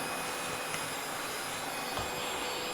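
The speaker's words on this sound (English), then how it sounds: "the loud sound of my little mini vac here" Small handheld mini vacuum running steadily and loudly nearby while picking up loose sequin debris after embroidery appliqué work, a continuous whirring hiss with no speech over it.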